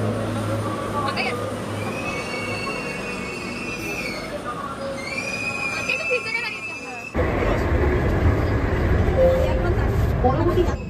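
Inside a moving train carriage, a steady rumble of rails and wheels runs throughout with a faint squeal of wheels. It turns suddenly louder and rougher partway through as conditions change.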